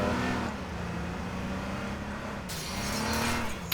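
A car driving in H1Z1: a steady engine drone with a low hum that dips and rises slightly, close and continuous throughout, with no talking.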